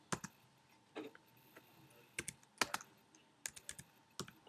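Quiet, sparse clicking of keys on a computer keyboard, irregular taps and short bursts of typing at close range in an otherwise still room.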